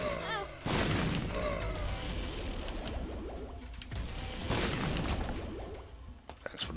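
Bomb explosions in The Binding of Isaac, a few heavy booming bursts with whooshing decay amid busy game sounds, loud and close, no talk.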